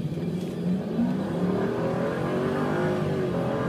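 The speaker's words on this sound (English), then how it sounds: "I'll give it some gas, show you what it does." A 2006 Lincoln LS pulls out and accelerates, its engine note rising in a steady climbing drone as the car gathers speed, heard from inside the cabin with no talk.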